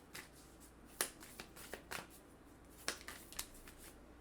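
Oracle cards being shuffled by hand in a quiet room, a series of soft, sharp riffles and snaps spaced irregularly, close and fairly faint, with no talking.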